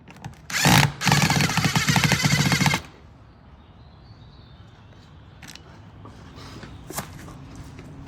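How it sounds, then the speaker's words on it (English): A power tool rattles loudly in a burst of under two seconds as it drives old screws out along an upper belt line on a Monaco, then quieter handling noises and clicks follow. "just going down the line, getting all the old screws out"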